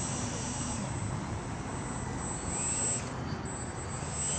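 Freewing L39 Albatros RC model jet flying overhead, a continuous high-pitched electric ducted-fan whine over a steady rushing hum that swells slightly as it turns.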